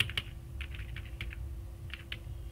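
Several quiet, separate keystrokes tap on a computer keyboard as a command is typed into a terminal. The clicks come in short, irregular bursts over a low, steady room hum.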